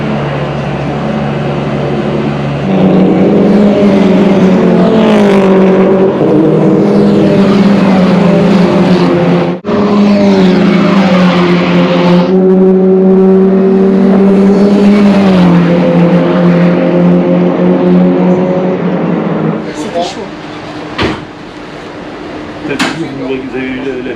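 Race cars in a French touring car championship at the Magny-Cours circuit, engines roaring loud and close as cars overtake, with pitch rising and falling through gear changes and a brief gap before the sound fades to a lighter passing.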